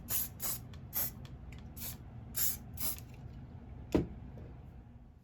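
Hairspray sprayed onto dead flowers outdoors in a backyard: a quick series of short, sharp aerosol hisses in an irregular rhythm, then a pause and one last burst.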